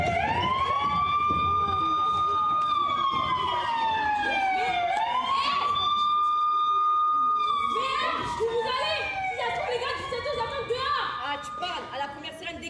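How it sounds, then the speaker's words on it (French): A police car siren wails loudly in rising and falling sweeps nearby, with voices talking over it and other street noise in the background. "Police, sirène de police."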